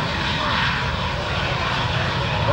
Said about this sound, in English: By today's jet standard, this is a slow airplane.